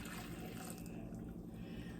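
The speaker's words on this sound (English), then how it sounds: "We're gonna add this hot water" Steady running water with a soft trickling, splashing texture, close by and continuous, as freshly boiled water is poured onto gelatin in a container.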